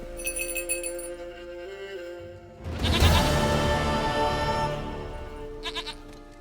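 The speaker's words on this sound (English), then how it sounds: "Goat of mine, dearest, sweetest goat." A goat in the video game The Witcher 3 gives a long wavering bleat, loud and close, following a stretch of tonal game audio and chiming notes.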